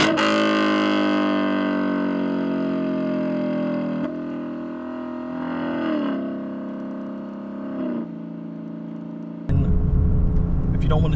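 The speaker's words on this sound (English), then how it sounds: "Foot off the gas and downshift." Lexus LC 500 engine heard from inside the car during a downshift: a loud, steady exhaust drone that sags in pitch with small blips around four, six and eight seconds, then a sudden rougher burst of rumble near the end.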